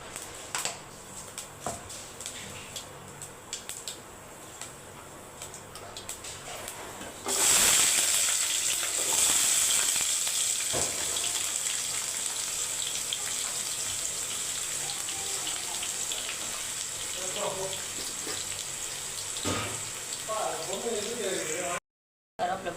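Fenugreek seeds dropped into hot oil for a torn-fish curry give off a sudden loud, steady sizzle that jumps up partway through and then holds, with faint kitchen clatter before it and quiet talk around it.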